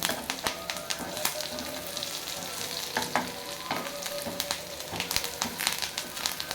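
Spiced goat intestine fries in a pan with a steady, crackling sizzle. Scattered sharper pops and stirring scrapes rise above it at close range, and there is no talk.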